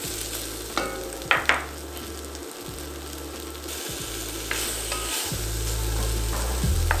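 A seasoned stew base sizzles in a pot while it is stirred, with loud spoon knocks and scrapes early on over a continuous frying hiss that grows slightly toward the end.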